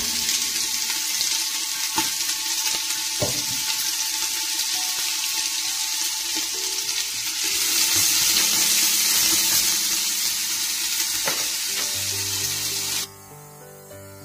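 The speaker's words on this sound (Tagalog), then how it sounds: "gigisa ko yung muna ang bawang at sibuyas ho" Garlic and onion sautéing together in oil for dinuguan give a steady, close hiss, with faint clinks of a utensil now and then, until the sizzle drops away abruptly near the end.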